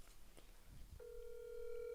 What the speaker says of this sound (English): She rejected the call. It just got one ring.